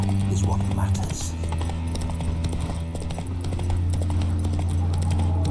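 Horse hooves clip-clop in the video game Witcher 3, a steady rhythmic walking gait carried over a low droning music bed, with a brief whinny-like sound early on.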